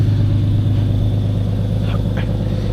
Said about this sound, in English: all it is a muffler delete with an exhaust leak